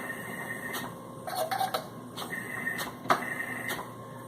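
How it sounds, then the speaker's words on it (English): A tire changer machine turns a rim under pedal control while a tire is mounted, giving a steady mechanical whir with a few short clunks and clicks along the way, close and fairly loud. "I'm going to use my pedal to sweep this rim around"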